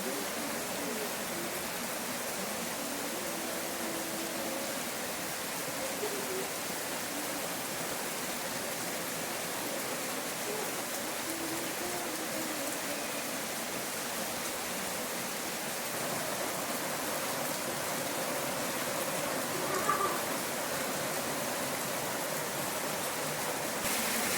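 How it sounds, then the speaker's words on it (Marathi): Steady rain hisses evenly throughout, a continuous wash of noise with no breaks and no voices. "पण हा पाऊस ना चालूच होता"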